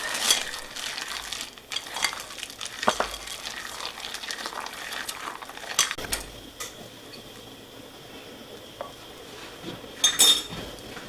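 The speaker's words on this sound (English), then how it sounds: "Just going to scrape the bottoms to make sure there's no flour sitting there" Utensil scraping the bottom of a bowl of muffin batter studded with chocolate chips, close and continuous, with clinks and scrapes of metal against the bowl in an irregular rhythm and no talking.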